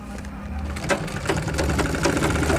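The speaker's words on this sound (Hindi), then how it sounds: "दूसरी सिलाई हम किनारे पर मारेंगे यहाँ पर" A sewing machine stitching fabric for a school skirt, a close, steady mechanical whirring with rapid needle chatter running continuously through the short stretch.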